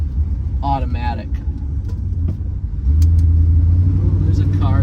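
A 1967 Chrysler 300 with a 727 automatic transmission that may be slipping, driving on back roads: a steady low engine rumble heard from inside the car, swelling louder partway through as it pulls, with someone talking over it.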